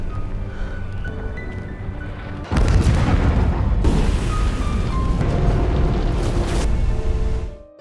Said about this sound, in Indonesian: Tidak lama kemudian terdengar suara ledakan,